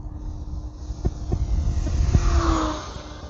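An E-flite Conscendo RC plane makes a low pass at full throttle into the wind. A steady electric whine rises and falls as it flies past, over wind rumble on the microphone.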